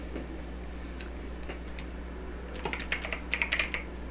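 Typing on a computer keyboard, heard as a few scattered keystrokes followed by two quick bursts of rapid clicking, close and fairly quiet over a steady low hum.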